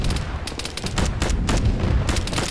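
Gunfire in an Arma tactical military shooter game: rapid bursts of close shots in quick irregular succession, dense and loud throughout, with no talking over it.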